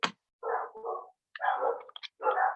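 Several dogs barking indoors at moderate distance, four or five short bursts of barks separated by brief silences, with no talk over them.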